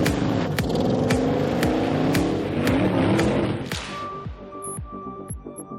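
An Audi quattro all-wheel-drive car works up a steep climbing hill on a test site, its engine droning loud and strained, broken by rhythmic sharp knocks and clatter, then easing to a lower hum with faint tonal whine.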